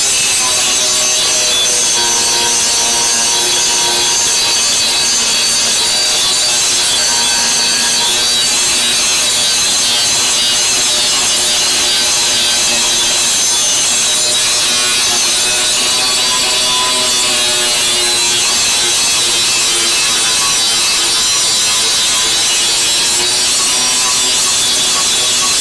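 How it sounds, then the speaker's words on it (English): An angle grinder works over a freshly welded-in steel plate, a loud, continuous close-up grinding hiss with a steady high whine that holds unbroken throughout. "It's very easy to grind through the plate that we just welded in"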